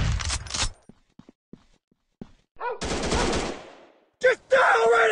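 Machine gun fire in a shooter video game comes in separate loud bursts, a long rattling volley and then shorter sharp ones, with quiet gaps and brief voice sounds between them.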